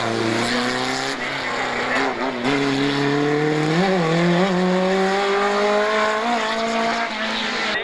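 Rally car number 16 races past on a stage of the Rallye Montastruc near Mazamet, engine loud and close, revving up and down through gear changes with rising pitch sweeps.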